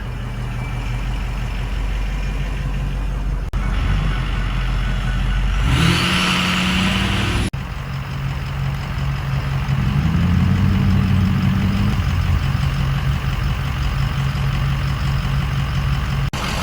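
A lifted Ford F250 truck engine warms up, idling with a steady low rumble. It gives a short, sharp rev midway, returns to idle, then a gentler rise and fall in pitch follows, close and loud, with no speech.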